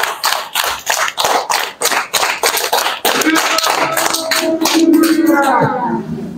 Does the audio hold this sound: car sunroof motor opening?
no